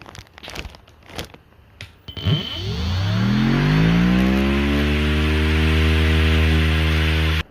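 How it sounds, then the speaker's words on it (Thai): A 24V DC brushless electric grass trimmer with a square blade spins up after a few clicks and handling noises, its motor whine rising in pitch and then holding a loud steady hum until it cuts off. "ต่อไปมาลองกับใบสี่เหลี่ยมนะครับ มาดูความแรง"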